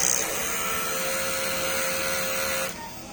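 A DTF printer whirs and hums steadily with a high mechanical whine during its head-cleaning cycle, then drops abruptly to a softer hum near the end.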